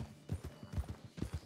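Horse hooves clip-clop in a quick, steady gallop rhythm while riding in Red Dead Redemption 2, muffled and fairly quiet.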